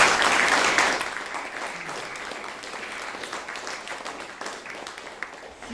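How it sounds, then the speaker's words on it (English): Warm applause from an audience at a music scholars' masterclass, loudest at the start and then gradually thinning into a softer, sustained patter of clapping. "Let's give them a big round of applause."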